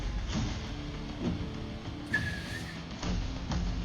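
Whistling in a movie scene, a short thin high whistle that rises briefly over a murky low background with a few dull thumps around it.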